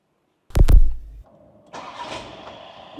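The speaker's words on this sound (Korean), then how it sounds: "시동을 딱 걸었을 때 굉장히 부드러운 소리가 나죠" A WEINSBERG camper van, about the size of a Hyundai Staria, fires up with a short, loud cranking burst of about half a second, then settles into a smooth, soft, steady idle.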